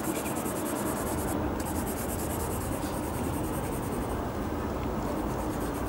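Steady scratchy rasp of a pastel pencil hatching across paper, continuous and close, with no talk over it.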